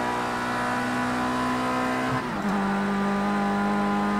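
A race car engine in Project CARS 2 drones steadily at high revs, briefly drops as it downshifts to third entering the banked parabolic curve, then settles into a higher sustained pitch as it pulls through.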